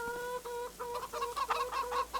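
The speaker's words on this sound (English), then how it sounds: "There's quite a few chickens in here." Chickens cluck in a Farming Simulator coop, several birds overlapping in a steady, busy rhythm of short calls at moderate distance, with no talking.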